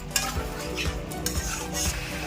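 Onion chicken masala being sautéed in a pan, a steady sizzle under regular scraping strokes of a spatula that repeat about twice a second, close and moderately loud, with no talking.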